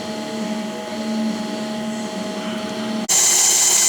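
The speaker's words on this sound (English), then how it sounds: "cutting the last of the crank mains and we're going to go to the rods" A machine shop grinder or cutter works the crankshaft main journals of an MGB engine during a rebuild, a steady humming whine with a faint tonal drone, then an abrupt shift to a brighter, louder hiss near the end.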